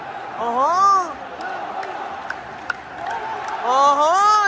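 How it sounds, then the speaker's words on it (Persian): A sports-match crowd chants and cheers in unison, with rising and falling voices swelling twice over a steady background of crowd noise. "اولین باره که دارن اینجوری یک صدا تشویق میکنن"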